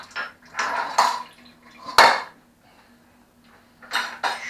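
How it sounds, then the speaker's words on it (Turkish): Dishes, pots and cutlery are tossed one after another into a kitchen sink during washing up, several loud close clatters and clinks separated by short quiet gaps. "Bütün bulaşıkları lavaboya atıyoruz."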